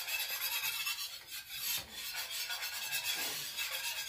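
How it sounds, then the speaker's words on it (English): Butter and flour roux being whisked in a pan, a steady close scraping and rasping of the whisk that runs continuously in gentle strokes with no talk. "So you just keep on whisking it like this."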